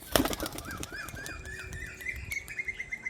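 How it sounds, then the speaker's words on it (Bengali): A pigeon is let go and flaps its wings in a quick burst close by, followed by faint chirps and soft calls from birds around it. "এই ছেড়ে দিল দাদা পায়রাটা"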